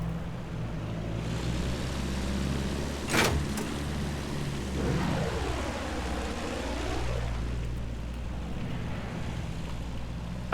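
A biplane in the World War I shooter Battlefield 1 drones steadily and loudly, with a sweeping pass of engine tone in the middle, over a constant low rumble and no talking.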